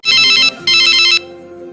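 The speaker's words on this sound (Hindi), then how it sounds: "फिर 1 महीने बाद राहुल शालू को फोन करता है।" A phone ringtone chirps loudly in two bursts with a short gap, then stops, leaving a low hum.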